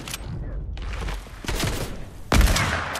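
Gunfire in the Fortnite video game, a few sharp shots with a heavier burst near the end, mixed with background game noise and faint talk.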